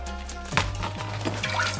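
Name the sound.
pouring water into pot of chilies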